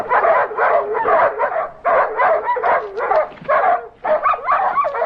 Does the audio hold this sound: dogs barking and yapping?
yes